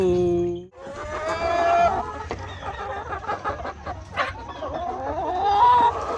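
Farm chickens cluck and cackle repeatedly, close by, while being fed a sweet feed, with a rooster-like call rising near the start and low animal noise underneath.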